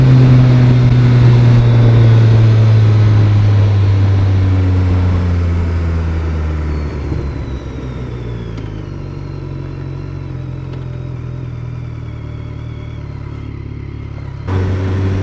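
A motorcycle engine rumbles loudly nearby, its note falling away as a car drives past on the road, then a sharp clatter and a renewed engine burst near the end, with no talk.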